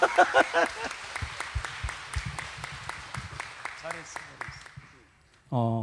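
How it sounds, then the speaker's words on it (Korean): A church gathering claps in a light, scattered round of applause while voices chatter over it, then the clapping fades and a single voice speaks alone at the end. "박수 한번 할까요?"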